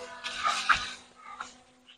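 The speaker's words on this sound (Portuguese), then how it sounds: "Ali tem uns cachorros." A dog gives a brief, high whimpering whine, then a second softer whine, outdoors in the village of Povoado Pau João, close by and fairly quiet.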